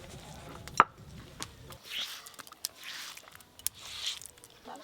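Goat meat being cut for cooking: a sharp knock at the start, then soft wet squishing and scattered knife taps, with slicing strokes recurring at a slow rhythm, close and fairly quiet, with no talking.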